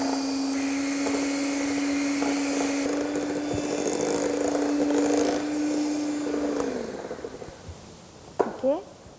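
An electric mixer whirs steadily at a constant pitch while blending red velvet cupcake batter with refined flour, then winds down and stops near the end, followed by a few brief clinks.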